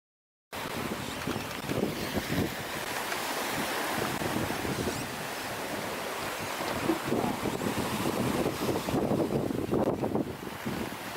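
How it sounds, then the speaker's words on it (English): Steady rushing wind and water wash around a sailboat moving over the open ocean, a continuous broad roar with slight surges. "they're clearly on a moving sailboat, moving over the ocean"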